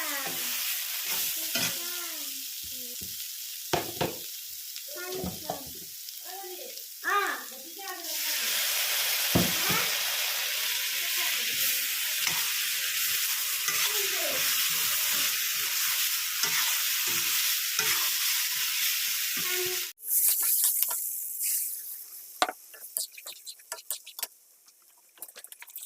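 Dried fish stir-fried in a pan for an Assamese recipe, heard as a long, dense sizzle with repeated scraping and mixing strokes close by, partly overlapped by a voice, with a brief louder burst near the end.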